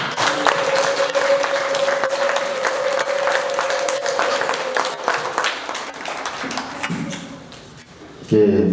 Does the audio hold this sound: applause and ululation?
yes